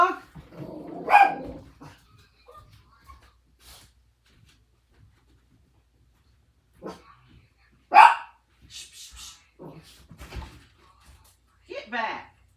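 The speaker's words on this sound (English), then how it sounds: "I have to go see what she's barking at." A dog barking indoors in sharp, scattered bursts separated by long quiet gaps, with a person talking in between.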